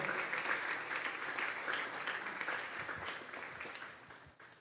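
A Sunday church congregation claps together during the service, a fairly soft and steady round of applause that tapers off near the end.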